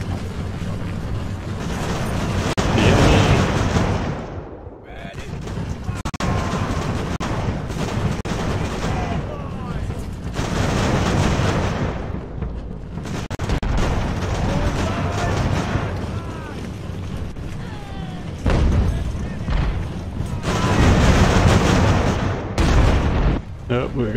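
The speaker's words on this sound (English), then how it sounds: "We've got some artillery coming back our way." In the Ultimate Admiral naval game, ship artillery booms out again and again, heavy rolling blasts and rumbling salvos that sound near and loud with only short lulls.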